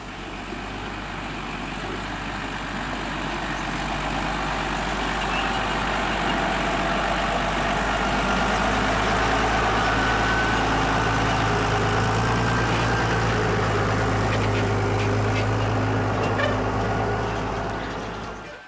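Two tractors working a field alongside silage wagons including a Pottinger Toro 5100, their heavy engines droning and idling steadily at close range, swelling slightly midway and fading at the end with no talk.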